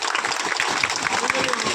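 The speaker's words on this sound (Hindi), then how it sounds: "एक तो बार ताली मारा" A crowd at a political rally for a JDU legislator claps in dense, sustained applause, loud and close, with crowd voices mixed into the clapping.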